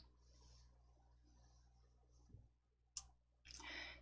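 A few sharp computer mouse clicks in a quiet room, faint ticks early on and then two distinct louder clicks near the end, with no talking.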